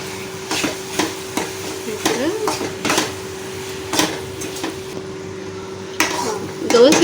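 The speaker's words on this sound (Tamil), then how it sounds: "இப்போ நம்ம துருவி வச்ச பன்னீரை இந்த கிரேவியில் சேர்த்துடலாம்." Grated paneer is stirred into a gravy in a cooking pan for paneer masala dosa stuffing: repeated scraping and knocking strokes of a spoon against the pan, close and fairly loud, with a steady tonal hum underneath.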